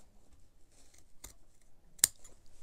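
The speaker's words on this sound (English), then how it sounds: "But then I'm going to cut it into the corner." Scissors snipping into the corner of fabric for a sewn laptop bag: two crisp close cuts a moment apart, the second sharper, with a quiet room between them.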